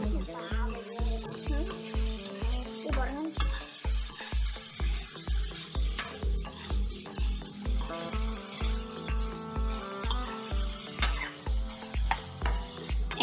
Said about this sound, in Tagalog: Yun, hinahalo niya.